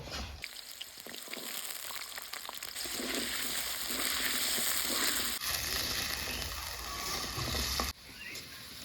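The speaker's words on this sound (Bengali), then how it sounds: "এই তেলেতে আলুটাও ভাজা নিব" Potatoes frying in hot oil in a pan after fish, a steady dense sizzle that runs throughout, loud and close, with a brief drop near the end.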